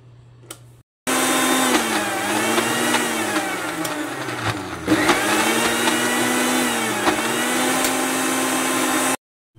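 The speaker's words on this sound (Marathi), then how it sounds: "आता मी हे ब्लेंडरला ब्लेंड करून घेते।" An electric blender whirs loudly and steadily for about eight seconds while blending cooked tomatoes for sauce, with a slight dip in pitch midway, then cuts off abruptly.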